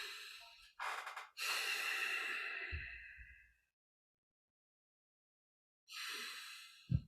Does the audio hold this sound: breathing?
yes